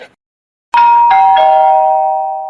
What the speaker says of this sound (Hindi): आज डोरबेल बजते ही सलोनी ने दरवाजा खोला